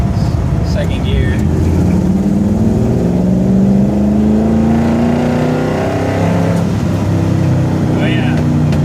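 Ford 302 V8 in an F100 truck revving up through an RPM pull in second gear, a loud, continuous engine note rising steadily in pitch, close by with a voice briefly over it.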